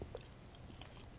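Ice cream being eaten close to the mic, with soft chewing and biting sounds over a steady low background for a moment.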